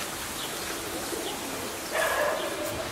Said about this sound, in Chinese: 鸽子好多。